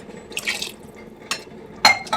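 Water trickles and splashes into a biryani pot for chicken biryani in a home kitchen, a few separate bursts of pouring and dripping that are close and moderately loud, with quiet gaps between them.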